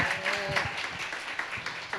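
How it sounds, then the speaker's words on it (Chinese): A church congregation applauds during a worship service, a steady wash of many clapping hands with occasional voices mixed in, moderately loud and continuous throughout. "我们热烈掌声欢迎第一位"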